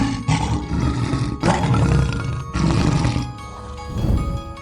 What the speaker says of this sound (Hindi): खरगोश की बात सुनकर शेर ने बड़ा गुस्सा आया और वो बार बार गर्जन लग गया